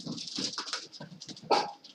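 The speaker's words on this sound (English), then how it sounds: "so you notice the dogs are barking?" Several dogs bark and yip in quick, overlapping bursts, fairly close, with a louder sharp bark near the end.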